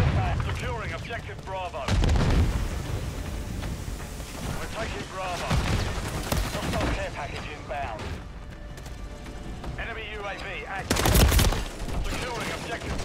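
Heavy gunfire and explosions in Call of Duty: Modern Warfare III come in loud, dense bursts with crashing blasts, while a player's voice talks over the shooting.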